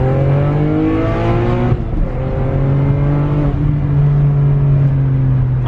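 A BMW E92 328i pulling hard in third gear, its engine note climbing steadily and loud from inside the cabin, with a brief dip around two seconds before the rising drone resumes; no speech.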